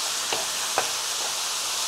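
Washed gourd stir-fried in a pan over high heat gives a steady broad sizzle, with two faint scrapes of stirring near the start and no voices.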